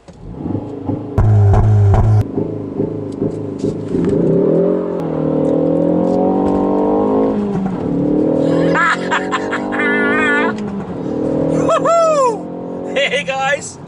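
A 2019 Ford Focus ST doing a launch control start, the engine held at high revs with a fluttering, popping note, then surging through rising gear pulls, loud and close, with laughter and voices over the top.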